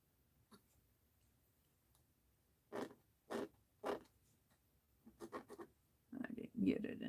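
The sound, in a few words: sketching on art journal paper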